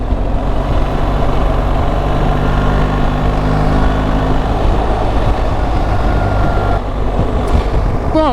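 Reworked engine of a BMW R1300 GS Triple Black motorcycle under way in its highest riding setting, with a rattly feel: a loud, steady, close engine drone mixed with wind rush, holding throughout with a brief pitch shift near the end.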